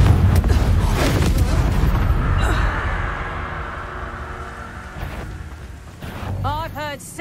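A Confringo fire spell exploding in Hogwarts Legacy, a heavy booming blast with a rumbling tail that slowly fades, loud and close, then a quieter second impact near the end.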